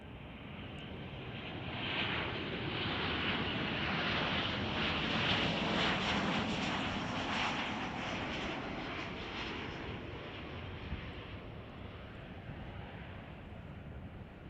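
An American Airlines plane arriving at Chicago O'Hare gives a faint, distant broad roar that rises and then slowly fades, mixed with light wind noise and no voices.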